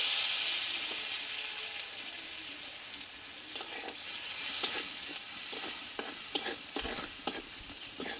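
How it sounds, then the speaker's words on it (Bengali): Ginger and green chilli sautéing in a pan, with steady close frying sizzle and stirring scrapes. Short clatters break the sizzle in the second half, and no one speaks. "দেখো আদা কাঁচা লঙ্কাটা একটু ভালোভাবে আমি কষে নেবো"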